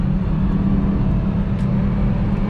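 Ford Fiesta 1.0 sedan engine running steadily with a low, continuous drone, heard close up and loud, with no voices over it.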